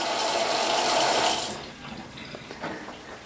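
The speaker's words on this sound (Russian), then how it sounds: "я включаю воду" Water runs from a tap through a faulty Lemax gas water heater, a loud steady rush that cuts off after about a second and a half, leaving faint drips and small clicks.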